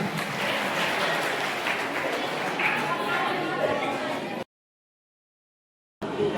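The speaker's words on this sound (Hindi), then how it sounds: "उनका जोरदार तालियों से स्वागत है सरावगी जी का" An audience at a Birsa Munda Jayanti gathering applauds and chatters for a few seconds to welcome a social worker to the stage, then the sound cuts out abruptly before resuming briefly.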